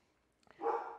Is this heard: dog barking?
yes